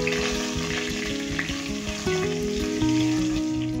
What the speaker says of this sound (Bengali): ফোড়ন ভালো করে ভাজা হয়ে গেছে